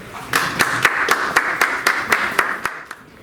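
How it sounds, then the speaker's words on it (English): About ten evenly spaced, sharp claps in a quick steady rhythm, close by, with a faint murmur of voices underneath. "A great applause for her."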